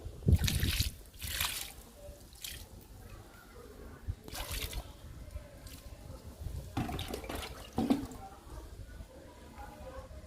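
Liquid is poured over potted hibiscus and tea plant cuttings in a few splashing, trickling bursts with gaps between them, close and moderately loud, and someone talks softly between the pours.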